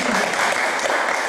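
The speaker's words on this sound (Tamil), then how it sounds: "கைத்தட்டுங்கள்ல" An audience at a religious discourse clapping, dense continuous applause filling the moment, loud and close.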